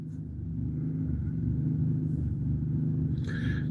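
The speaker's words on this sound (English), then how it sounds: "It sounds like I might be running out of fuel in the generator too." A generator engine running low on fuel gives a steady, low rumbling drone at moderate volume throughout, with a brief higher-pitched sound near the end.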